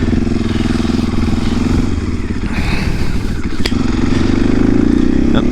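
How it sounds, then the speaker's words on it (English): A stock 2024 KTM 500 EXC-F four-stroke dirt bike engine running loud and close, its deep thumping idle rising into a brief throttle blip with rattly mechanical clatter before settling back. "engine sounds great, and that's just stock"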